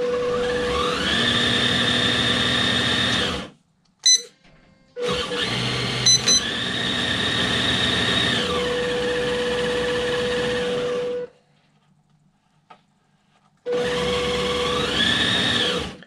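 Electric motor of a 1/7 scale RC Land Rover Defender 110 whirring in bursts, spinning up, holding a steady whine, then stopping, with brief clicks and gaps between runs as it shifts from low to high gear.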